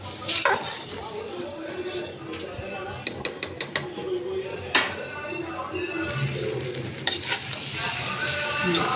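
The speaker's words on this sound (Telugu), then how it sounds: "ఇలా అడుగు పట్టకుండా వేయించుకున్నాం అనుకోండి, చాలా టేస్ట్గా ఉంటుంది" Rice dry-fries in a pan for mushroom biryani, with a spoon scraping and clicking against the metal in short irregular bursts over a faint, steady background.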